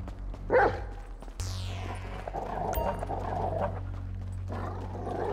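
A dog in GTA 5 gives a single sharp bark, followed by scuffling, rustling movement and faint ambient noise.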